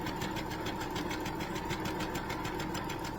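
A sewing machine runs a straight seam through ultra-thin, cheap fabric, with a steady, even rhythmic whir and fast needle stitching, close and continuous for the whole stretch with no talk.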